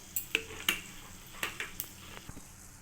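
Oil in a kadai (wok) for a country-chicken egg curry gives a soft sizzle under a series of sharp clinks and scrapes of a utensil against the pan, spaced irregularly and close.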